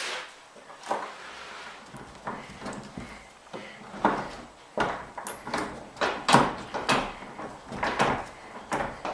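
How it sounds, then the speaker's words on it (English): A wooden sliding barn door on a homestead building is moved along its track, giving irregular rolling rumbles, knocks and bumps at close range, moderately loud, with no speech. "I got a sliding barn door."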